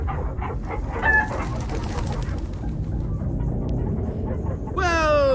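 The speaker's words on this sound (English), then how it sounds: "it appears we are in the land of chickens that are indeed the size of zombies" In a Minecraft Story Mode game scene, chickens cluck and squawk over a dense, loud ambient game background, with no talking.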